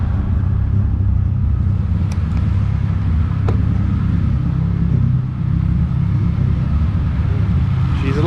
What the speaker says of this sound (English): Swap Subaru, first startup.